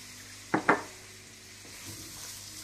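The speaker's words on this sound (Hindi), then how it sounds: "मक्खन गरम करने के बाद आप इसमें प्याज डाल दें।" Onions going into hot butter in a pan give two quick, loud sizzling bursts close by, then fade to a low, quiet frying hiss.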